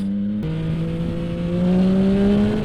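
A 2021 Yamaha MT-09 motorcycle engine revs steadily upward, its pitch climbing smoothly and loud up close, with no voices.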